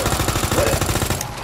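Rapid gunfire from a handgun in the video game Resident Evil 2 Remake, a fast, steady stream of loud shots lasting the whole moment with no talking.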